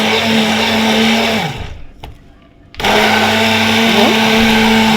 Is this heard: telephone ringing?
no